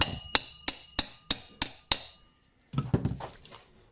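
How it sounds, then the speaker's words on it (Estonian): A hammer taps a part into place in a garage: six sharp, evenly spaced metallic strikes, a short silence, then a quicker cluster of lighter knocks, all close and unaccompanied by speech. "siis panete paar korda haamriga"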